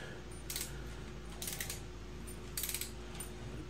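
A ratcheting torque wrench tightens ARP rod bolts to 28 foot-pounds during a Honda D16 engine rebuild, three short bursts of rapid mechanical clicking spaced about a second apart over a quiet hum, close.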